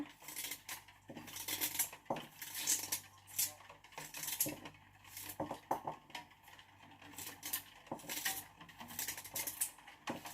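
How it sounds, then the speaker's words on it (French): A kitchen knife chops ingredients into small pieces for a detox drink, with repeated clicks and taps of the blade and utensils against a board or dish, close and moderately quiet. "Quand j'ai fini, je découpe en petits morceaux"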